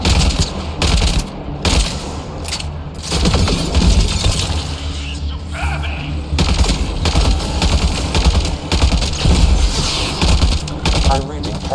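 Rapid bursts of gunfire blast at a Remnant alien device in the sci-fi shooter Mass Effect: Andromeda, loud and close, with sharp automatic volleys broken by brief pauses, alongside shattering and mechanical clatter.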